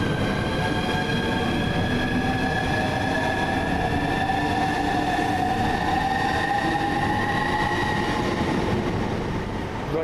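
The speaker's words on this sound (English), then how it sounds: "Just now leaving, final train, the 1449 service from London St Pancras to Margate" A Class 395 train departing Stratford International rumbles steadily past with a constant roar and a faint whine that rises slightly as it pulls away, with no voices heard.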